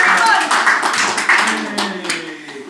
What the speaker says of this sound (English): Round of applause for these folks, y'all.